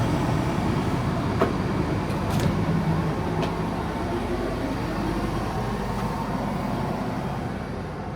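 Steady low rumble and hiss inside a moving passenger train, continuous and even throughout, with a few faint clicks from the track and no voices.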